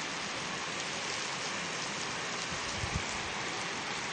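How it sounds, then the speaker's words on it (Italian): Heavy rain pours down outside, flooding the ground in Quartu, a dense steady hiss of water at close range with a couple of brief louder splashes near the end. "guarda come cavolo piove"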